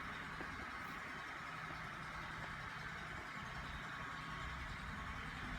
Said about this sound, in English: Brian's backhoe